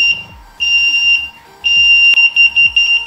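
A water level monitoring device sounds its buzzer alarm in loud, piercing electronic tones, with two long bursts followed by a run of quick pulsing beeps, up close and alone.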